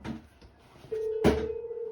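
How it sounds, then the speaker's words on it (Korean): A marketing robocall rings through on a phone, a steady electronic tone starting partway in, cut by a sharp click, with faint background noise before it. "하루에 한 3번씩 전화 오는 것 같네"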